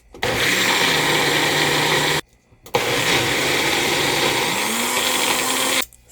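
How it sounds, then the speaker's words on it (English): Blender whirring through Irish sea moss and water, a loud continuous motor drone that stops briefly and then restarts for a second long run before cutting off. "So now we're going to blend it."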